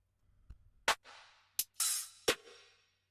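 Drum machine wave-file samples played one after another: a soft thump, then a loud percussive hit with a noisy decaying tail, a short sharp click, a bright hissing cymbal-like burst, and another hit, each separate and alone.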